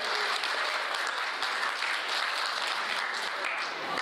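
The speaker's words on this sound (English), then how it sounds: "Give me a round of applause to Rukshan." An audience claps steadily and densely at a campaign kick-off event, a continuous round of applause that stays loud throughout.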